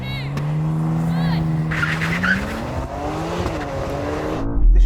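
BMW estate cars launching in a drag race, engines revving upward through rising pitch sweeps with brief tire squeal off the line, loud and close, with voices talking over the noise.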